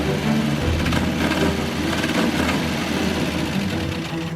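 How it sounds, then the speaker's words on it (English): A turbocharged Subaru EA82T flat-four, pulled for an RX build, idles high after being revved, a steady, busy mechanical hum with a fast even rhythm, close and alone with no talk. "it's idling really high"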